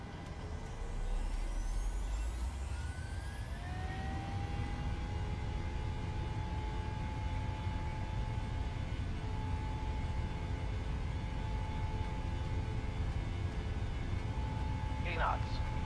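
Twin engines of a PMDG Boeing 737-800 spool up for takeoff in Microsoft Flight Simulator, rising whine sweeping upward over the first few seconds then holding a steady loud roar with tonal hum, continuous and close.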